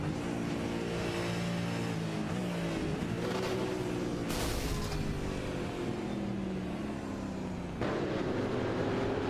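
A V8 race car engine in the iRacing simulator revs and shifts continuously, harmonic engine tones rising and falling through gear changes, loud and close throughout with a brief burst of higher noise mid-run.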